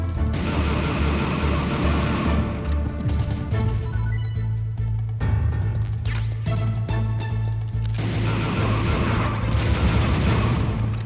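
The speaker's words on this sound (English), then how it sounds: "You did some shooting." Gunfire in the Metal Gear Solid video game sounds as loud, dense bursts of rapid shots layered over game music and effects, with a sustained low tone running through the middle.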